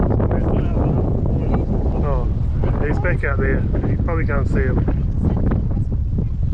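Wind buffets the microphone on Quail Island near Christchurch, a steady low rumble that runs through the whole stretch beneath close conversational talk.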